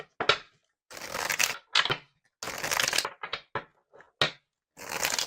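Brisk bursts of tarot card deck shuffling, several riffles and short flicks separated by brief pauses, close and fairly loud with no voices.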